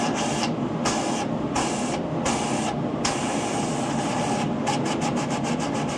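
A shop dust collector roars steadily with its blast gate open, a loud continuous rush of airflow through ducting, with recurring bursts of hissing air layered over the constant drone.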